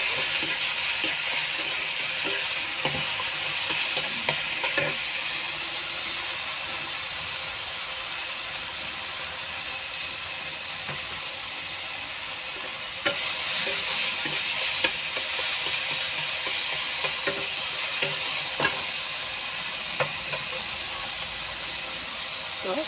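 Fish and bori sizzle steadily in a hot pan, with scattered scraping and clinking as they are stirred, a continuous frying hiss throughout with a brief louder burst midway.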